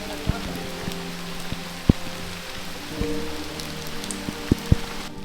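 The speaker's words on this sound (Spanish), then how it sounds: "Es muy necesario, llueve demasiado aquí." Rain falls steadily on surfaces on the way to the Coba ruins, a soft constant patter broken by scattered louder drips and drops close by.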